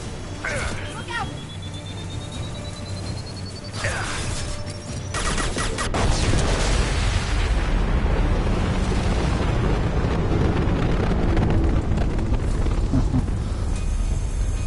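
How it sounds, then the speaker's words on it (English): A huge explosion in the Mass Effect 2 video game bursts into a dense, loud roar of rumbling debris and wind that sustains for about ten seconds, following quieter tones and sharp effects, with a voice talking over part of it. "So I'm sure the power of that explosion alone would have been enough to probably demolish this whole facility"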